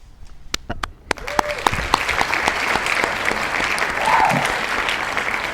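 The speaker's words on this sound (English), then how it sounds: "A round of applause for the judge once again." Applause from the audience at a student debate on whether science has done more harm than good, a steady crowd clapping that swells and holds throughout, with a few sharp claps at the start and faint voices underneath.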